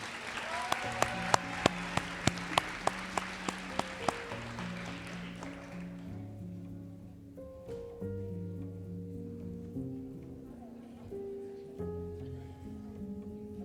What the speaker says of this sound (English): Round of applause for these great N4 students.